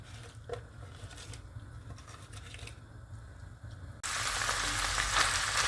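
Grated onion drops into minced meat frying in a pan. A steady low sizzle is heard, and it jumps to a loud, bright hiss when the onion goes in near the end. No one speaks.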